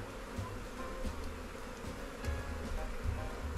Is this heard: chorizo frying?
no